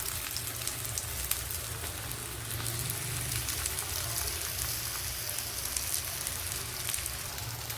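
Dhapate flatbread sizzles steadily in oil on a griddle over low heat, a dense, close, even crackle and hiss that holds without pause throughout.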